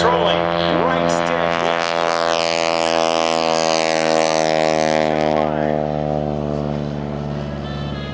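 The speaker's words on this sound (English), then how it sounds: "This is a monster air show Stearman" A Stearman biplane roars past at an air show during a wing-walking act, its engine loud and close with a drone that shifts in pitch as it passes.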